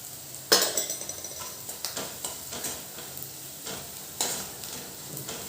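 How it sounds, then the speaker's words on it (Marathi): Onion softened in oil frying with turmeric and coriander powder for a Maharashtrian besan pithla, a steady close sizzle broken by several sharp spoon scrapes and taps against the pan, no voices. "हळद पावडर छान तेलात शेकून घ्यायची"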